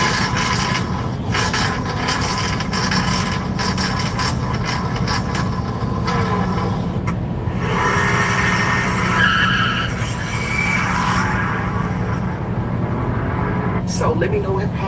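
A loud single-turbo car engine on nitrous runs steadily in traffic, with a constant heavy roar and some rising whine across the whole span.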